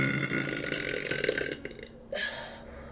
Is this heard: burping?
yes